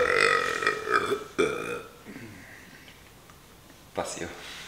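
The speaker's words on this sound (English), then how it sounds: "Burping for sure." A long, loud burp followed by a couple of shorter ones, close up, with a brief voice near the end.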